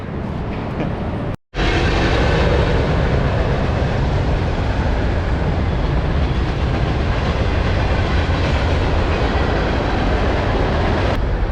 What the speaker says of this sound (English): sound of metal on metal